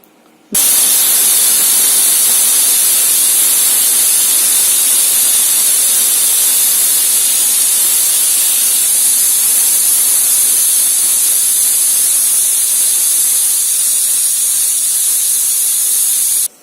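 A pressure cooker of chickpeas on a medium flame releasing steam, a loud, steady, high hiss that starts abruptly and holds for about sixteen seconds before cutting off, with no clear whistle tones and no voices.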